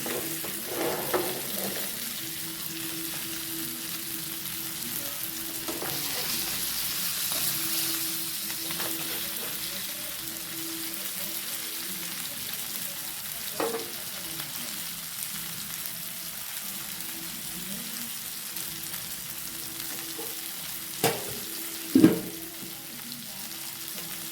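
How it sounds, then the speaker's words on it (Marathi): Whole chilapi fish frying in a pan, a continuous close sizzle and crackle with occasional spatters and a couple of sharper pops near the end. "मस्त आता पकत आहे आपली फिश, छान पाहू शकता."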